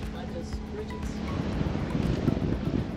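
Steady wind roars across the microphone with a broad rushing noise, over a low churn of water and a rumbling sailboat beneath, at sea off Florida at dusk.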